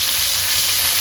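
Spice paste sautés in oil left over from frying anchovies, giving a loud, steady sizzle and crackle close up, with no voices.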